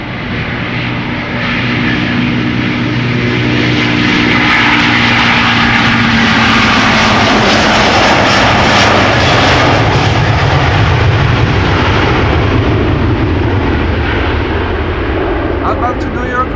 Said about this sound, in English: Delta Airlines, flight 49. It's an A330-300.